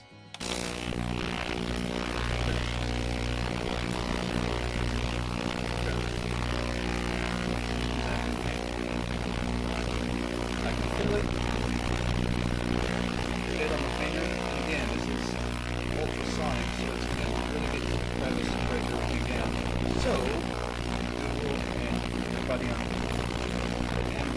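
A Magnasonic ultrasonic cleaner gives a steady, loud mechanical buzz with a dense tonal hum, droning continuously from start to finish.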